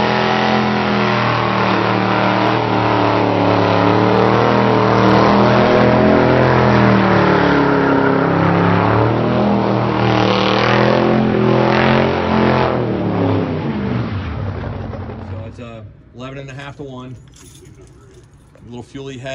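A 1969 Chevy van's V8 revs loudly and continuously up close, the engine note rising and falling before dropping off near the end.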